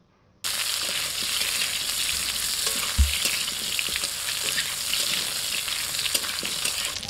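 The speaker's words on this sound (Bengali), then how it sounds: "আমটা একটু ভেজে নিচ্ছি" Long strips of raw mango fry in oil in a wok with a steady crackling sizzle, and a utensil scrapes and knocks against the pan now and then.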